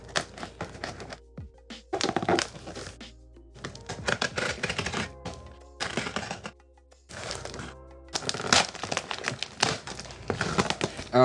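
Large cardboard packaging of a GHS.RAR is handled and opened up close, with bursts of crinkling, scraping and thumping separated by short pauses.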